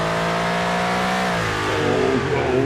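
Racing car engines rev and shift in a racing video game featuring GT cars, a steady mid-pitched engine drone with rising and falling pitch, loud and alone.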